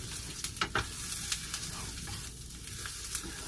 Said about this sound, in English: that's what we're trying to do here, is toast the rice a little bit